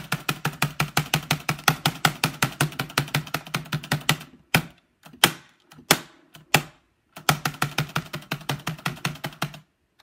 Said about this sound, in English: So, here's my keyboard and space.